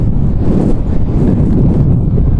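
Strong wind buffeting the microphone on a coastal lookout on the Costa Brava, a loud low rumbling roar that pulses unevenly for the whole stretch.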